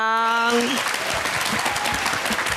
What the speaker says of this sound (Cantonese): 掌聲來歡迎